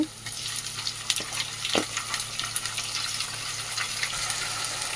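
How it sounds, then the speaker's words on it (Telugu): Ginger garlic paste frying in a pan for an egg and drumstick curry, a loud continuous sizzle with soft scraping strokes of a stirring spoon, close up and steady throughout. "అల్లం వెల్లుల్లి పేస్ట్ వేసుకున్న తర్వాత అది కలిసేంత వరకు కలుపుకొని ఒక టూ మినిట్స్ వేయించుకుందాం"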